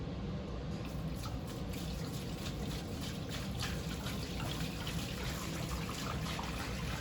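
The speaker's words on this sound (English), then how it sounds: "what you want to do is dump it out in the sink" Dirty fish tank water poured out into a sink, a steady close splashing trickle and gush of liquid running continuously with no voices.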